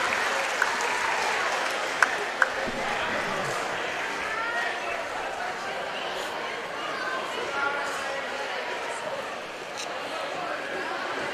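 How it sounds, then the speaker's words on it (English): Crowd applause and cheering after a boxing bout fill an indoor arena, a steady dense wash throughout with a few sharper claps and shouts, while a voice talks faintly underneath. "Good crowd reaction."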